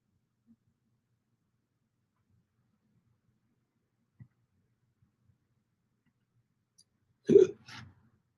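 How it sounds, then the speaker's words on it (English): Two or three hiccups close together, small and close by, in otherwise near silence with a faint click earlier on. "Hiccups."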